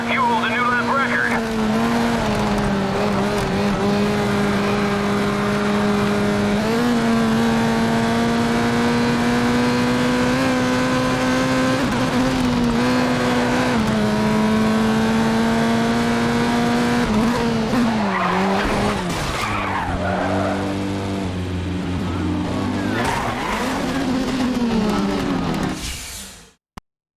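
Race cars in the Little Racers video game rev continuously with high whining engine tones and tire skids, loud and sustained, with pitch rising and falling through shifts before fading at the end; a voice talks underneath.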